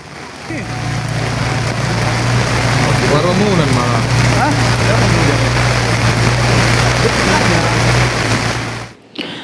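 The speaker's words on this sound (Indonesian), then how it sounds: "hujan dengan intensitas tinggi juga mengguyur wilayah Mandailing, Natal, Sumatera Utara" Heavy, high-intensity rain pours down in Mandailing Natal, North Sumatra, a dense and loud steady roar of water that continues without break before cutting off abruptly at the end.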